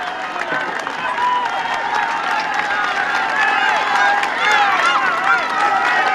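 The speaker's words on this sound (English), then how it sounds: "But what a crowd in Brittany." A roadside crowd at a Tour de France stage in Brittany cheers and shouts as riders climb toward the top of the Mont Bel-Air, a loud dense roar of voices and whistles mixed with clapping, rising slightly toward the end.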